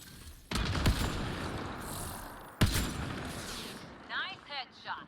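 Gunfire in Mass Effect Andromeda comes as two loud, close shots, each followed by a rumbling wash of noise, and then short electronic warbling sounds near the end.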